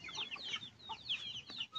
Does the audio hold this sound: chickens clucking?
yes